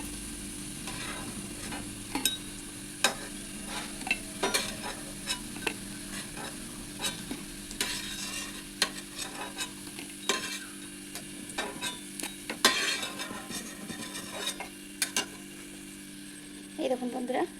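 Fish roe fritters frying in hot oil, a steady close sizzle with repeated sharp clinks and scrapes of a spatula or ladle against the pan.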